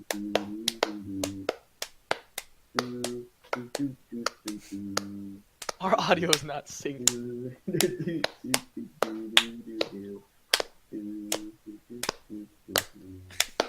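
Podcast hosts clap their hands to sync recorded audio, sharp isolated claps ringing out repeatedly, close and loud, between stretches of talking.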